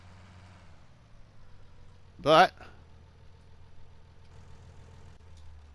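A Massey Ferguson MF Serie 3000 tractor engine in Farming Simulator 19 idles with a low steady hum throughout, broken by one brief loud burst midway.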